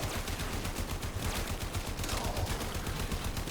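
Rapid continuous gunfire from the Biotic Rounds AX-52 in the video game Warframe, a dense stream of sharp shots with no pauses, loud and steady throughout.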